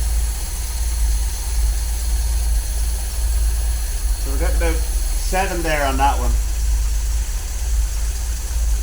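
A cold MGB engine fitted with twin SU carburetors idles steadily at close range, a low continuous rumble running throughout while someone talks briefly over it partway through.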